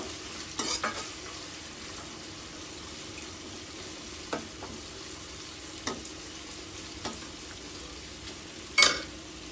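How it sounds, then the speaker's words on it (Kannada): Curry leaves and cashews fry in oil with a faint, steady sizzle, broken by a few sharp spoon taps against the pan, the loudest one near the end. "ಕರ್ಬೇ ಸೊಪ್ಪು ಸ್ವಲ್ಪ ಚೆನ್ನಾಗಿ ಫ್ರೈ ಮಾಡ್ಕೋಬೇಕು"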